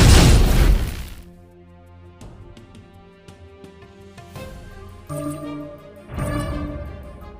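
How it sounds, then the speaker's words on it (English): Turret destruction in the video game Legend of Ace: a loud burst of shattering noise opens, followed by quieter ringing game tones and chimes, then a second loud crash near the end. "Your turret has been destroyed."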